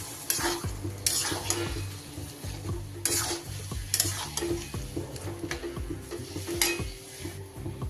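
A spoon scrapes and stirs rhythmically in a pan as boiled peas are mixed into paneer ghugni, with a soft sizzle underneath and occasional clinks against the metal.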